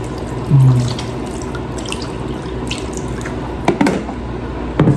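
Chicken feet are put into salted water, giving a brief splash and gurgle, then a few close drips and sloshes against a steady quiet kitchen background.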